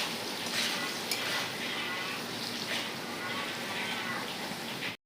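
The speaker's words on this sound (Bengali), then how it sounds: "লবণ হলুদ দিয়ে আলুটা কিছুক্ষণ ভাজবো" Potatoes frying in a pan with salt and turmeric, a dense, steady sizzle close by with occasional stirring, cut off abruptly at the end, with no talk.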